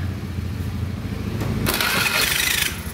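A car's starter motor cranks the engine, rough and grinding, recorded up close with the ignition on. A steady churning crank leads into a louder, harsher burst before it settles.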